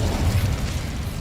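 A fire spell cast in the video game Hogwarts Legacy bursts out as a dense, rumbling whoosh of flame, loud and continuous for about a second with a heavy low-end roar and no talk over it.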